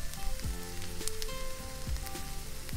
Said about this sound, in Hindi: अब हम इसमें डालेंगे फाइनली चॉप टमाटर और इसे भी अच्छी तरह से भून लेंगे